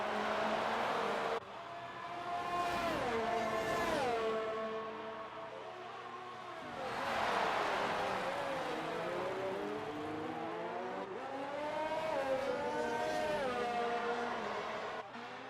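Race cars in a sim racing game at the Hungarian Grand Prix whine past the line one after another, engine pitch sweeping up and down through gear shifts as they approach and pass, loud and continuous.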